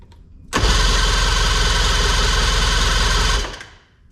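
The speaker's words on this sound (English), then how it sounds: "Choke button and then start it." An old boat engine in very bad condition, with the choke on after spark plug work, bursts into a loud, fast, buzzing run for about three seconds, then cuts out and fades.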